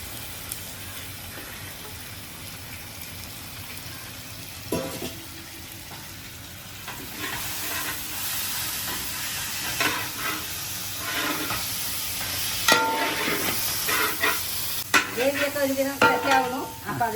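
Onions sautéing in a pan for chicken maqluba, a soft steady sizzle with intermittent scraping stirs that grow busier and louder toward the end, with no talking over it.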